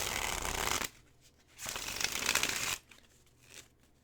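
A White Numen tarot deck being shuffled by hand: two loud, crisp riffling bursts of card stock close to the mic, separated by quiet pauses, with a softer third shuffle near the end.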